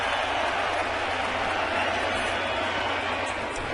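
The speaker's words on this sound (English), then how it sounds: "Bronx cheer." A baseball stadium crowd at an ALCS playoff game gives a Bronx cheer, a broad, continuous roar of jeering voices that fills the whole stretch and stays steady and distant.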